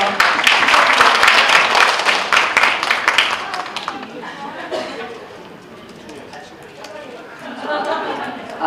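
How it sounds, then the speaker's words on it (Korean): A crowd at a political party event applauds to welcome a former lawmaker, dense clapping loud at first, then thinning and fading as murmuring voices continue underneath. "박수로 환영해 주십시오"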